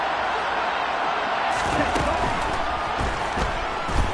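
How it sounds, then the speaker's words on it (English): Stadium crowd roar from the Madden 21 football video game, a steady loud wash of cheering that swells slightly midway, with faint commentary-like voices underneath and no clear breaks. "the crowd getting into it as we come up on a big 3rd down"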